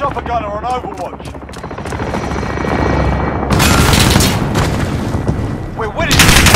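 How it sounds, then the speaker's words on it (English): Chopper gunner helicopter in Call of Duty: Modern Warfare, a loud sustained rotor drone mixed with bursts of gunfire and booming impacts, with game announcer voices over the action. "Chopper gunner on Overwatch."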